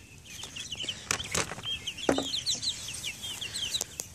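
A young seven-week-old rooster clucks and calls close by in a quiet outdoor play yard, with other birds chirping in the background and a few sharp knocks.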